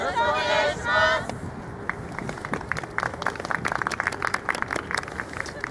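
Audience members clap along in steady rhythm to a yosakoi dance performance by the Momoyama Gakuin University team at Kobe Yosakoi 2021, following a brief tonal call at the start.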